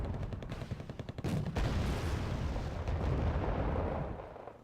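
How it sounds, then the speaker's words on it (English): Bombs burst in the real-time strategy game Wargame Red Dragon as a dense run of loud explosions and rolling booms, with rapid cracking shots at the start, carrying on continuously before fading. "Kernas dropping in some bombs"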